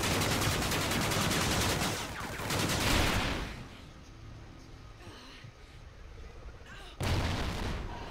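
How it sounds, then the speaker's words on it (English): Call of Duty Ghosts team deathmatch gunfire: loud, rapid bursts of automatic weapon fire crackle at close range, drop back to quieter distant shots, then surge again sharply at the end. "Oh, someone shot me from Gina's bakery."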